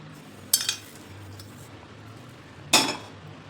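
Salt and split mustard seed mixed for mango pickle, with two sharp bursts of a metal spoon clattering against a steel bowl amid quiet gaps.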